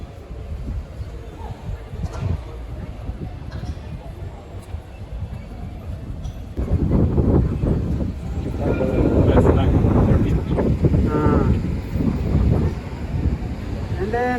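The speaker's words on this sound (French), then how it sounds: "And then there's a tram coming" A small, short city tram approaches on a Grenoble street, its rumble and rail noise growing louder partway through under outdoor wind and traffic, while a person talks nearby.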